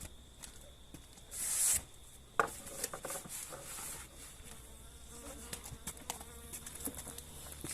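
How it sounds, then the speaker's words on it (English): Bees from a hive on a spring homestead buzz steadily at close range, with a louder swell of wingbeat drone partway through, amid light handling knocks and rustles. "Oh, definitely got bees there. There's lots of bees in there."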